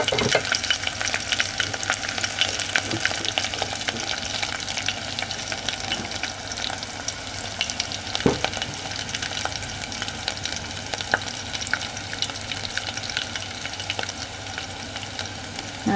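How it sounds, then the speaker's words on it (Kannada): Tempering spices crackle and sizzle steadily in hot oil for a roasted green gram curry, a close, continuous hiss with occasional pops and no voices. "ನೋಡಿ ಒಗ್ಗರಣೆ ಆಗಿದೆ."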